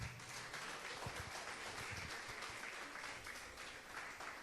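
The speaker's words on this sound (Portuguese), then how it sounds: "Aplauda Jesus e dê glória a Deus." Church congregation applauding together after a call to praise Jesus, a dense, steady wash of many hands clapping with no talk over it.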